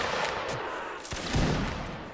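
Musket volleys in the video game Napoleonic Wars during a line battle, a dense wash of distant crackling shots under steady background noise.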